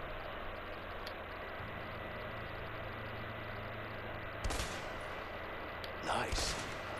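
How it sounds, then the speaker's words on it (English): MP5 submachine gun fire in the video game A Way Out comes as two short, loud bursts over a steady hiss of background noise. "The brand new MP5. Perfect for close quarters combat."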